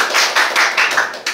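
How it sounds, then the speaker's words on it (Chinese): A small audience at a philosophy lecture claps in welcome. A short, close burst of hand claps comes in uneven waves and ends in a final few claps. "我们请掌声欢迎季金信老师"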